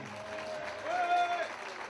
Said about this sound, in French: On n'a rien entendu sous vos applaudissements